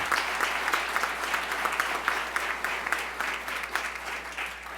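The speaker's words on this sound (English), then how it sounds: "If we could give all of them a great round of applause for" Audience members at an event in Virginia applaud first responders, a steady round of clapping with distinct claps standing out over a low constant hum in the room.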